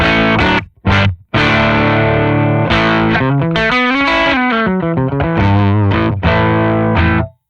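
A distorted electric guitar tone through a Mixwave Benson Chimera amp simulator plugin plays a run of chords and sliding notes, loud and gritty with a warm, processed amp character.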